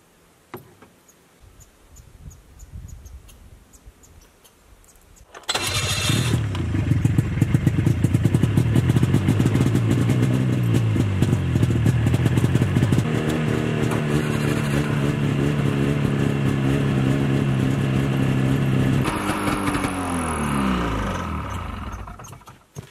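A snowmobile engine starts abruptly after several seconds of near quiet, then runs loud and close with a buzzing, rattly idle and a few revs before cutting off near the end.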